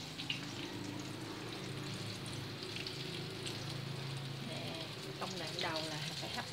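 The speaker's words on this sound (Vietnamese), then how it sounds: "Xong rồi mình sẽ chiên thêm một dĩa khoai tây." Potatoes frying in hot oil in a kitchen, a steady sizzling hiss with occasional crackles and pops, heard continuously at moderate volume.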